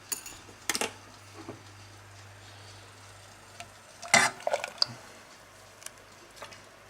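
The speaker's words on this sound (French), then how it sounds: "Et je remue jusqu'à ébullition et liaison." A spoon scrapes and clinks against a saucepan of custard in a few irregular bursts, with soft stirring noises and a low steady hum in the background.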